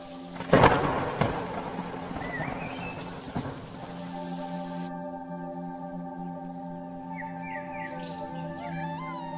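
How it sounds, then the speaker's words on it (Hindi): Heavy rain and a loud thunderclap in a cartoon sound effect, with a sharp crack early on giving way to steady rainfall and rumbling. Later a faint, whistling warble comes through alongside the rain. "जोरों से बिजली कड़कने लगती है और तेज बारिश होने लगती है।"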